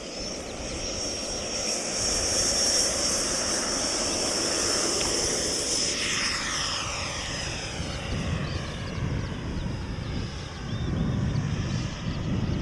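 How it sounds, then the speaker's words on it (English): A small repaired model Fouga Magister jet flies outdoors, its engine a steady, fairly loud whine and rush that holds throughout, with the pitch sweeping as it passes and no talking. "We're all ready for your little aeroplane."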